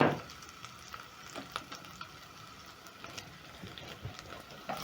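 Pork sears in a pot with a steady, soft crackling sizzle and scattered pops. It is fairly quiet and continuous, with no talking.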